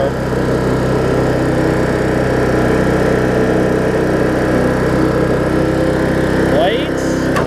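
A Weed Eater AYP riding mower engine runs steadily at a fairly fast idle, a constant close mechanical drone with no pauses for the whole stretch.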